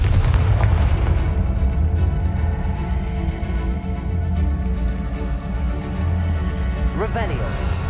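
A Confringo fire spell bursts with a deep, booming explosion in the video game Hogwarts Legacy, its low rumble rolling on loudly and steadily for several seconds.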